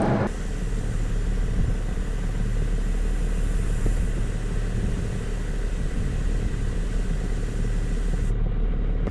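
A tuned car tested against a Porsche 992 Turbo S drives along with a steady, constant engine rumble and road noise from inside the cabin, close and unbroken throughout with no talk.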